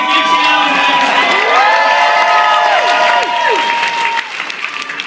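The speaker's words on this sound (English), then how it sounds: "so loud applause" Loud applause with cheering and whoops from a crowd at a business meeting in Toronto, energetic and continuous, with voices calling out over the clapping before it eases off.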